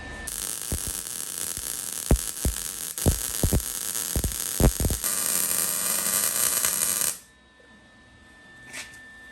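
A stainless steel water tank for a Lexus camper is welded, a steady loud hiss with scattered crackling pops that runs for about seven seconds, then cuts off into a quiet hum.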